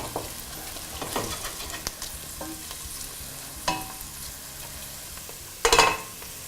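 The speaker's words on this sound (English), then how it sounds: "So the garlic's sweating away" Garlic sizzles in a pot alongside softened onions, a soft steady frying hiss with occasional stirring scrapes and clatters, one louder scrape near the end.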